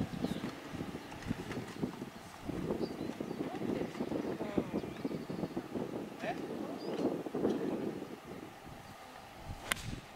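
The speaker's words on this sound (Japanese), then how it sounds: "風が、" Wind gusts across a golf course and buffets the microphone, making an uneven low rumble. Players talk casually in Japanese over it throughout.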